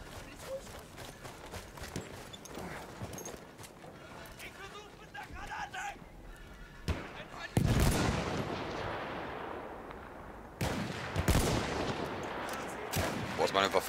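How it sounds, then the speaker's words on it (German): Loud gunshots and machine-gun bursts from a player's weapon in Battlefield 1, with booming artillery hits and heavy impacts in between, sharp and close, under ongoing talk. "Boah, ist meine Waffe laut."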